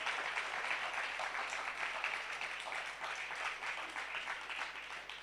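Crowd applause at a closing ceremony of a religious study camp, dense continuous clapping from many hands, steady and fairly loud throughout with no pauses.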